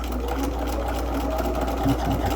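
A sewing machine stitches a tulip quilt block in a steady, continuous mechanical whir, close and fairly loud, with a constant low hum underneath and no voices.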